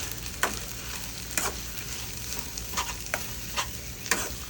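Shrimp stir-fried with sauce in a pan for pad thai, a soft background sizzle punctuated by about six sharp scraping spatula strokes at irregular intervals.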